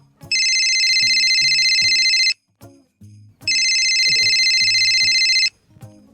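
A bright electronic phone ringtone plays in two long bursts separated by a short pause, with faint low background sounds between and beneath the rings.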